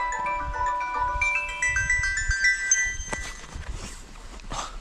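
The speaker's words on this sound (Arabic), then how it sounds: "التليفون كيصوني نشوفوا غير شكون" A mobile phone ringtone plays a bright electronic melody of short repeated tones, clear and fairly close, with some low speech and handling noise underneath toward the end.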